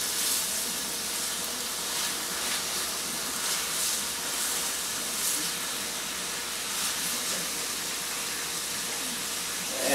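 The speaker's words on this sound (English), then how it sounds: "Now it's sizzling." Meat sears in a hot pan while a holiday dinner is cooked, giving a steady, loud broadband sizzle with no pauses.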